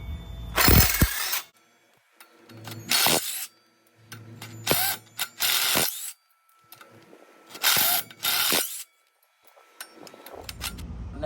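Ratchet clicking off size 10 oil pan bolts on a junkyard Honda Integra B18 engine during teardown, repeated bursts of rapid close ratcheting separated by short pauses.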